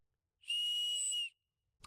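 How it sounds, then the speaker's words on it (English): A single loud, shrill blast from a titanium survival whistle held steady for just under a second, then cut off sharply, followed by quiet. "A whistle. Nice and light, but nice and loud."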